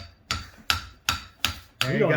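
A hammer strikes a car CV axle joint five times in quick, evenly spaced metallic blows, loud and close, the last ringing out with a sustained metallic tone.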